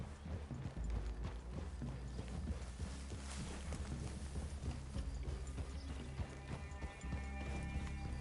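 Horse hooves clip-clopping in the Red Dead Redemption 2 video game, a steady rhythmic beat of several horses moving together under low ambient game sound, with occasional snorts and whinnies.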